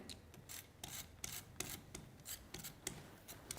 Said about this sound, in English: And then I'm going to use my dotty tape pen.